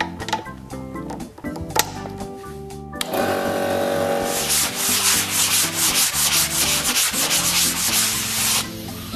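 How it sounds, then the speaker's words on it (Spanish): Steady, loud abrasive scraping of sanding around chipped patches of a wall, a continuous rough rubbing that grows denser and brighter after a short quieter start, with no talking. "estamos aprovechando para terminar de lijar todas las zonas de alrededor de los desconchones"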